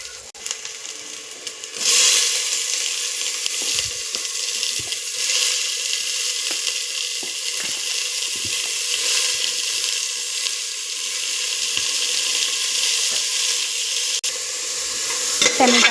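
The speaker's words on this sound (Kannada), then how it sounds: "ಟೊಮೆಟೊ ಹಾಕಾದ್ಮೇಲೆ ಒಂದು ರೌಂಡ್ ಫ್ರೈ ಮಾಡ್ಕೊಳ್ಳಿ" Tomatoes sizzle and fry in a pan for alasande kaalu sambar and are stirred repeatedly. The hiss starts abruptly and stays continuous, with scraping stir strokes over it and no voices.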